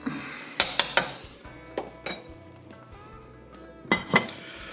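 A lid clanks onto an Instant Pot holding squirrel and dumplings, and a spoon stirs inside: sharp metallic clinks and knocks in small clusters at the start, middle and end, close and distinct over a low background hum.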